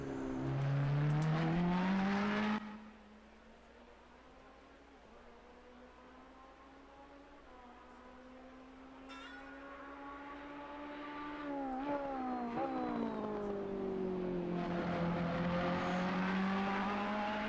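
Ferrari 488 EVO GT3 race car at Donington Park in Assetto Corsa Competizione: a high revving engine howls loudly, then drops to a lower steady drone, climbs again through gear changes and rises back to a loud wail, with no talking.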